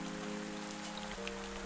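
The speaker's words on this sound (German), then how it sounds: "Es regnet gerade, das ist doch praktisch." Rain falls in the farming video game Pumpkin Days, a soft, steady patter heard faintly beneath gentle sustained background music.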